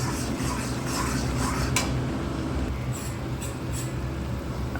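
Khoya and sesame mixture stirred continuously in a kadai, a thick, dense scraping and rustling with occasional light metallic clinks of the spoon, steady and close throughout.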